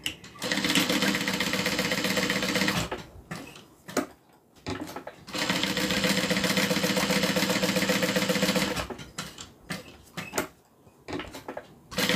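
A sewing machine back stitching a pocket seam runs in two long, steady buzzing stretches, loud and close, separated by short pauses filled with clicks and handling noises.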